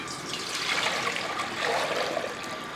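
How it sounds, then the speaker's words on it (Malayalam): Water pours steadily into a cooking pot set on a lit stove, making a continuous close splashing rush that is the start of a lemon pickle preparation, with no talking. "ഇതേപോലെ ഒരു പാത്രം കൊണ്ട് വെക്കുക കുറച്ച് വെള്ളം ഒഴിച്ചു"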